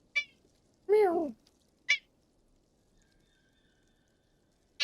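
A real cat lets out a short series of meows, one longer drawn-out call among brief chirping ones, close and clear in a quiet room.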